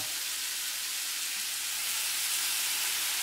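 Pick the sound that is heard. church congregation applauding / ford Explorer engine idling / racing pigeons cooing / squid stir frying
squid stir frying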